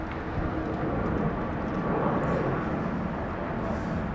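Airliner landing in a crosswind at London Heathrow Airport, a steady broad jet engine rumble and roar heard from a distance, fairly loud and without speech.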